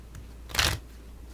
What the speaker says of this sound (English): Alright, one more shuffle.